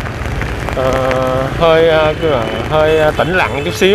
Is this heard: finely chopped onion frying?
no